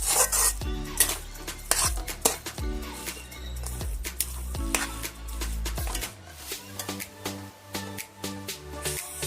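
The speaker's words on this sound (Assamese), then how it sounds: "নাৰিকলখিনিও ঠিক এনেদৰে খুব ঘনাই লাৰি থাকিব লাগিব, যাতে কেৰাহীৰ তলত লাগি নাযায়।" A metal spatula stirs and scrapes grated coconut in a wok for laddoos, giving repeated rasping strokes against the pan in an uneven rhythm, close and clear with no talking.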